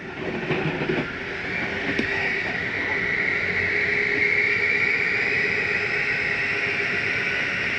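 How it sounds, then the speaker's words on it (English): A continuous mechanical whir and grinding hum rolls on at an even level as a Flagstaff 524BBS RV slide-out motor steadily drives the room inward. "That is just the slide mechanism telling itself not to come in any further, that it's in far enough."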